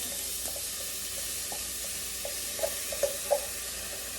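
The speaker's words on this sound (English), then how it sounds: "nice hot pan. Onions and garlic." Onions and garlic sizzle steadily in a hot pan, a constant hiss with a few soft stirring clicks and scrapes near the end, close and moderately quiet with no talking.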